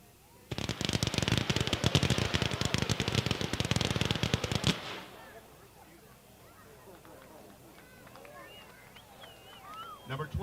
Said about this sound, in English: Number 11, 100-shot X-shaped red, green, purple, yellow with blue stars by Wizard Pro